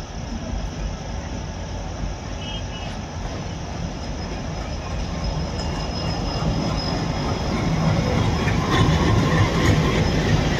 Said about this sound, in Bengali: ঠিক আমাদের এই কাঞ্চনকন্যা এক্সপ্রেসের পাশ দিয়ে আসছে আমাদের লোকোমোটিভ টুইনস